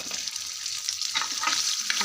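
Garlic, ginger and peas being stirred in a hot pan, an even close sizzle with soft scraping from the stirring that grows slightly louder, with no voices.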